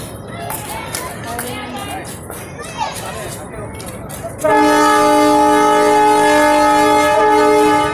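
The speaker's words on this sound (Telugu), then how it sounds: "మనోహరాబాద్లో ట్రైన్ క్రాసింగ్ అవుతుంది." A passenger train passes at a crossing station near Manoharabad in Telangana; rumbling and background voices give way to a loud, sustained multi-tone horn blast that holds steady for several seconds.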